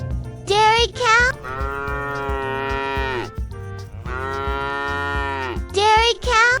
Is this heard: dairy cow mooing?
yes